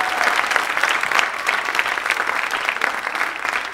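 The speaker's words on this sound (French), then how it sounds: "Clap for the Lord." Church congregation applauding during a worship service, dense, steady clapping from a large crowd filling the room, with faint voices mixed underneath.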